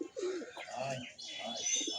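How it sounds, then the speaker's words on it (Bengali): A black Jiriya pigeon, marked in black mixed with white, coos softly with a few chirpy notes, steady and fairly close, over a murmur of background voices. "তো জিরিয়া পায়রা যাকে বলা হয়, একেবারে ব্ল্যাক জিরিয়া"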